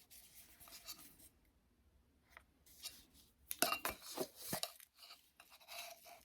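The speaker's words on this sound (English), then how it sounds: "I get to scrape it right at the edge of the can" A measuring spoon scraped along the edge of a baking powder can while baking a pumpkin roll: a few short, dry metallic scrapes and clicks, close and fairly quiet, clustered in a quick burst after a softer stretch of light rustling.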